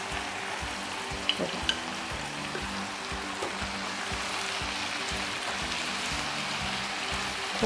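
Chicken karahi with spices, salt, chili and turmeric sizzles steadily in a pan, a constant bubbling fry with occasional stirring scrapes, close and unbroken, no talking.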